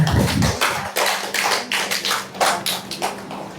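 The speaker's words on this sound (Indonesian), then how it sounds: "kita tepuk tangan buat kita semua" A burst of hand claps from a small group, irregular and fairly close, fading into a few scattered claps.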